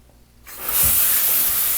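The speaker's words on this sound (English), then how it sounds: "And it looks like we got a good flow in the shower head." Hotel room shower head in Eau Claire, Wisconsin, bursts into a strong hissing spray after a brief quiet start, then holds a steady close rush of water.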